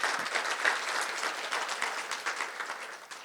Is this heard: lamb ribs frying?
no